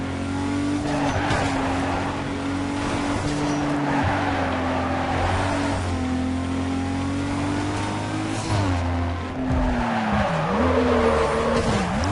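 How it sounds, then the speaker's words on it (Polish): A car drifts in the racing video game Need for Speed Carbon with a loud, sustained engine drone and continuous tire squeal. The pitch rises and dips as the car slides, and the sound stays steady throughout. "dawno nie driftowałem serio na tym silniku"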